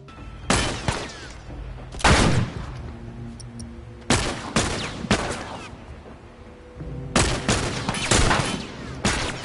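Gunfire in The Last of Us, several loud sharp shot bursts in clusters separated by short pauses, with no talking.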